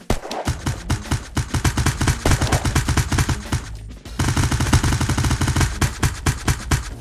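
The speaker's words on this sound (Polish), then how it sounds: "A to ta broń tak śmiesznie strzela." Rapid, continuous automatic gunfire from a weapon in the survival game Unturned, loud and close, with evenly spaced shots rattling almost the whole time and one brief pause partway through.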